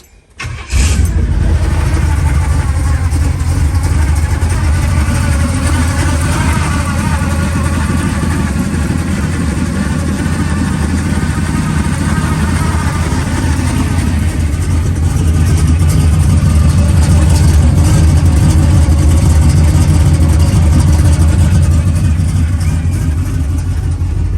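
A 1969 Pontiac GTO tribute car's engine, with a single exhaust and blown-out muffler, cranks and catches, then runs loud and rough close by, revving and idling steadily for a long stretch with no voices.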